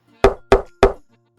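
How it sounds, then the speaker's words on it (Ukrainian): A woodpecker pecking its beak on an oak tree in an autumn forest: three sharp, loud knocks at an even, steady rhythm, each with a short ringing decay, close and alone with no other sound. "Дятел голосно стукає дзьобом по дереву, видзьобуючи шкідників"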